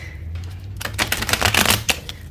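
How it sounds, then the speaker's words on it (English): A stiff deck of cards is shuffled, a quiet stretch giving way to a burst of rapid riffling flutters and soft clicks, close and fairly faint. "Let me give it a little shuffle and then I'll take from the middle."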